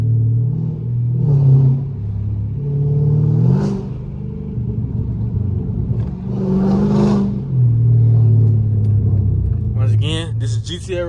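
A Dodge Charger Scat Pack's engine rumbles deep and close, swelling in a few revs before settling back, while someone talks over it and a burst of higher-pitched sound closes it out.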